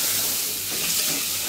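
Washed red lentils sauté on low heat in a pot for soup, giving a steady, even sizzling hiss close up, with no talking.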